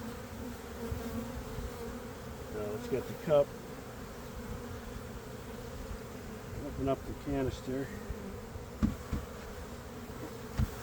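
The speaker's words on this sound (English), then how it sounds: "Bees fly back, it's fine because we want the nurse bees anyway." Honey bees buzz steadily around an opened hive during Varroa mite checking, a soft continuous drone with individual bees passing close, while a person talks and equipment clunks intermittently.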